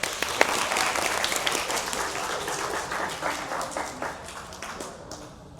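Village schoolchildren applaud in a rural classroom, dense lively clapping from many hands that is loud at first and fades over several seconds.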